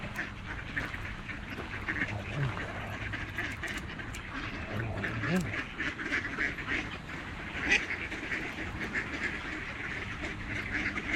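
Many ducks quack continuously at moderate distance, a busy overlapping chorus over steady outdoor background noise.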